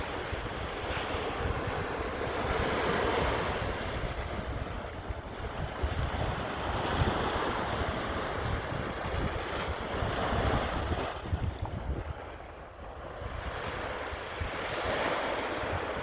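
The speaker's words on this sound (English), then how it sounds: "Here's some views of the beach again." Ocean surf at Staten Island's South Beach in New York City washes in steadily, a continuous rushing roar with slow swells as waves break, mixed with wind noise and no voices.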